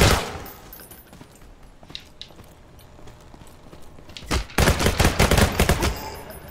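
Gunfire in the PSVR2 shooter ALVO comes in a zombie and bot mode: scattered sharp shots early, then a dense, louder volley of rapid automatic fire near the end.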